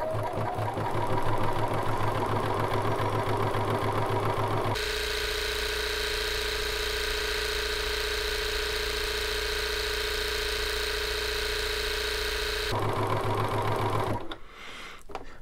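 Bernina sewing machine stitching a rolled hem with a buttonhole foot, a fast rhythmic motor whir and needle chatter, close and loud, briefly changing to a smoother steady hum mid-run before resuming and stopping.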